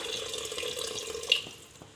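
Water pours steadily into a cooking pot for a chapati kurma, a soft continuous splashing stream close by with one brief brighter splash near the end.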